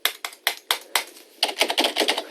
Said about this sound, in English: can you hear this? That's the sound of me on the computer.